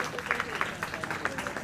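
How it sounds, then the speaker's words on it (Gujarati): A crowd claps for students presenting their work at a taluka-level school maths and science exhibition, with steady, moderately loud applause mixed with voices. "તો એ બધાને પણ આપણે તાળીઓથી વધાવીએ"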